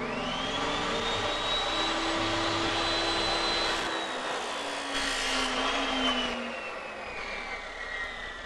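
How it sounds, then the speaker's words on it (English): An abrasion wheel cuts through a wire-reinforced hose in a workshop, a loud high whine that holds steady and then slowly drops in pitch as the blade loads, with grinding noise underneath throughout. "Be sure to use ear and eye protection when you use the abrasion wheel. Now we'll cut on the mark."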